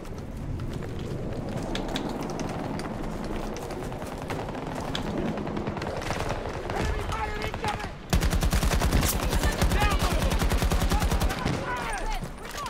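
Rapid automatic AK rifle fire in Battlefield 2042, dense bursts through the clip that grow louder and sharper in the final seconds, with game ambience and a voice talking underneath.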